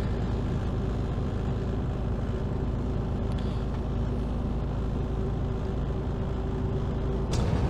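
A worn truck engine idles at about 1000 rpm with everything shaking, producing a steady, heavy, low rumbling drone, with a short burst of noise near the end.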